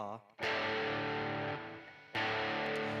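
A do–fa dyad (a fourth) rings out on distorted electric guitar, sustained loud and bright with a brief gap before a second strum restrikes it near the end.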